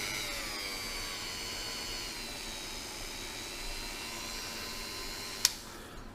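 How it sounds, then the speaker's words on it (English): A Dremel variable-speed rotary tool working on a Ducati 900SS bevel fork part, a steady high-pitched whine with shifting tones running throughout, ending in a brief sharp click near the end. "If you ever get a Dremel, get one with the variable speed."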